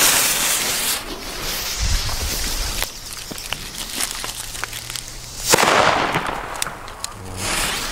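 Several China-Böller D firecrackers from a budget Aldi Cobra rocket assortment go off outdoors, a run of sharp cracks and pops scattered over a steady noisy background, with a louder burst late on.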